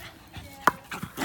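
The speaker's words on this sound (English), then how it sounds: "She's barking at the ball for some odd reason" A dog gives a short, sharp bark close by, with a few softer whimpering sounds and panting around it.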